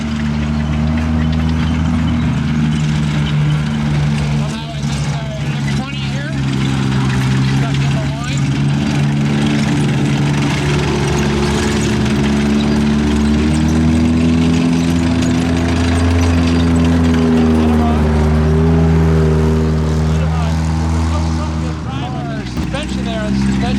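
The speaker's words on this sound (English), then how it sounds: "Very, very fast vehicle. And away they go in a cloud of dust." A WW2 tank destroyer armed with a 76mm gun drives away, its heavy engine droning loudly and continuously with a rough, steady rumble throughout.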